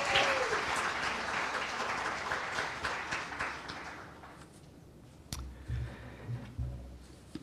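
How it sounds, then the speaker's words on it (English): Applause from a debate audience at closing statements for a political race, steady clapping that fades after a few seconds, leaving quiet room noise and a few faint knocks and shuffles. "Please don't applaud."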